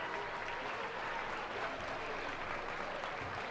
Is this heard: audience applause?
yes